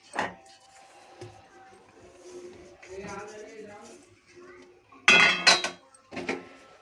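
Spoon scraping and clinking in a pan as roasted gram flour and ghee are stirred for a dry fruit laddu, with a soft scraping bed and a burst of louder metallic knocks near the end, under no talk.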